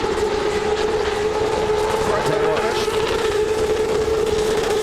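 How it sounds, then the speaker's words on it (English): A drift car at a D1NZ Drifting Championship qualifying round at Baypark Stadium, stuck in third gear after losing fourth, its engine droning loud and steady at high revs for several seconds without letting up. "That to me, Steve, sounds like he's on 3rd gear. I reckon he's lost 4th gear"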